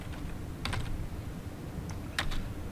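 Fingers type a netsh command on a computer keyboard, a few quick clustered clicks and key taps spaced over a quiet room hum, close and fairly soft.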